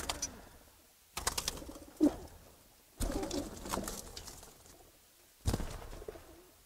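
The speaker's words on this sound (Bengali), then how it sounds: "এটা খুব সুন্দর একটা খাকি কবুতর" Khaki pigeons in a small loft give soft, low cooing calls in a few separate bursts, close and quiet against a hushed background.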